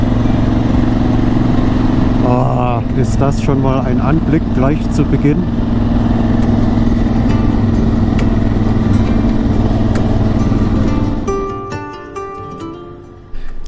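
A motorcycle rides along the Großglockner high alpine road, its engine droning steadily and loudly close by with wind noise. Someone speaks over it before the engine sound fades near the end.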